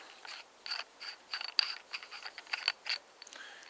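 A screwdriver piece being twisted off the hollow handle of a Horizons Tec survival shovel, a quiet run of small dry ratcheting clicks and threaded scrapes in uneven bursts, close up with no talking.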